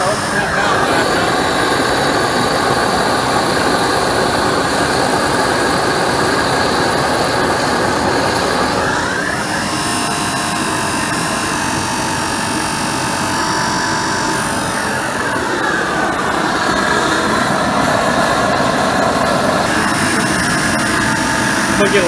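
A car wash steam cleaner boiler runs loud and steady after its pressure relief valve is reopened, a continuous roaring hiss with shifting tones that swell and fade, while a voice talks over it.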